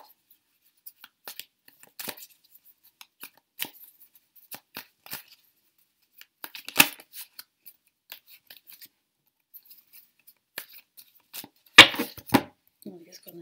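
Tarot cards drawn from a deck and laid out on a table during a reading: scattered soft slides, flicks and snaps of card stock, sparse and close, with a louder shuffle-like burst near the end.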